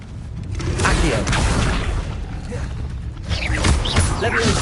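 A summoning spell cast in Hogwarts Legacy, heard as dense, rumbling magical game effects with whooshing, creaking and booming layers that sound throughout and swell again near the end.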